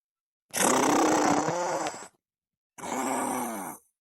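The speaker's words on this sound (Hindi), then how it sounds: "कौनी तना खर्राटे लेती जैसे सियार गुर्राती हूँ" Two long, loud, rasping snores with a growling, groaning quality, close up, separated by a pause of silence.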